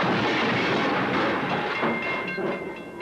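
A train wreck in an Illinois Central railway safety film: a loud, dense rumble of rail cars with clattering and hissing, steady then gradually easing off, with no voices.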